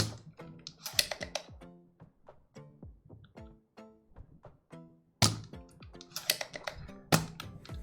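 Fingers type on a mechanical computer keyboard, close and clear, in irregular bursts of clicky keystrokes with brief pauses, then a faster flurry near the end.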